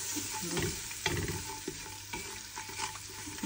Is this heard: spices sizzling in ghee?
yes